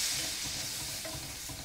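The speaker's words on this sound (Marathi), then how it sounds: "हे आणखी 1-2 मिनिटं परतून घेऊया" Fresh green pea masala is stir-fried in a pan, with a dense, steady sizzle and soft scraping and stirring sounds repeating through it.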